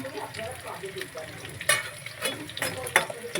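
Potatoes sautéing in a pan for paneer curry, a steady crackling sizzle with scraping stirs and a few sharp clinks of the spatula against the pan.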